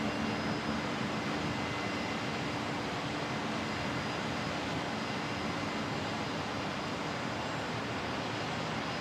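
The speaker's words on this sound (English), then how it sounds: "Another Saab arriving, good stuff." A Saab turboprop arriving at Brisbane Airport, close up at sunset or night, gives a steady, loud broadband engine roar with a faint whine, continuous and unbroken, no voices.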